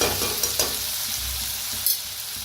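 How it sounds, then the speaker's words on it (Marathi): Onion and tomato fry in a pan, a dense steady sizzle with a few stirring scrapes and soft knocks, close and fairly loud, no voices. "बघा कांदा टमाटो भाजलेला आहे।"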